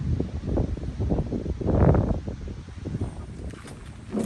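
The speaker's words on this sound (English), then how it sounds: "It's getting too windy" Gusty wind at Modesto Reservoir during a kayak fishing outing, buffeting the microphone in low rumbling bursts that swell and fade, with a stronger gust in the middle and no one talking.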